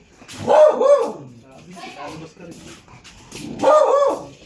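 Dogs barking in a series of close, loud bursts, with a pause between the first barks and a later burst, mixed with people talking nearby.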